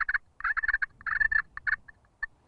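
Turkey call played by hand to imitate a hen's purr, a close series of rapid rolling, fluttering purrs in short bursts with brief pauses, ending in a few single notes, with no talking.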